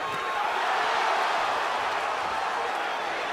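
Arena crowd at a 2005 Castillo vs. Corrales boxing match roars in a steady, dense wash of noise, loud and continuous throughout with no distinct claps or breaks.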